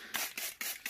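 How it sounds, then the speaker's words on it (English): A handheld spray bottle misting plants while a planted tank is rescaped gives four quick, close hissing squirts in a steady rhythm, each a short breathy burst with brief gaps between. "give everything a spray"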